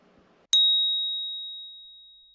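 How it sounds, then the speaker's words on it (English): A single bright chime rings out in Eleven Table Tennis VR on Oculus Quest 2, a clean struck tone that sustains and slowly fades over about two seconds after near silence. "I got a notification"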